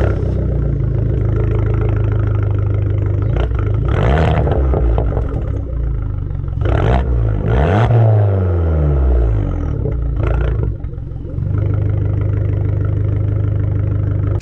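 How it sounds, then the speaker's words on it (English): An Abarth fitted with a Magneti Marelli Bombardone exhaust and carbon tips starts up with loud, deep revving blips around the middle, then settles into a steady, burbling idle close to the microphone. "We have a Magnetti Marelli Bombardone exhaust."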